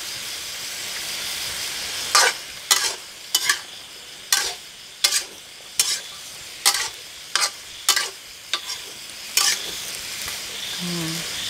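Pork stir-fried with asparagus and chili paste in a pan, a continuous sizzle broken by a dozen sharp, evenly spaced stirring scrapes, close and fairly loud.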